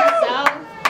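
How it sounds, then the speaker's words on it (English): A mother claps at a live music performance at House of Blues, three sharp separate hand claps close by, with a voice talking over them. "Yeah, mom clap."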